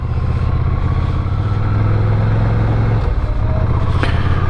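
A 2023 Ducati Scrambler Urban Motard being ridden, its engine droning steadily with a low, even rumble and a slight shift in pitch midway, loud and close with no talk.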